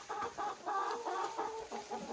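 Chickens cluck in a steady run of short, repeated bursts, close by and fairly loud, with no talking.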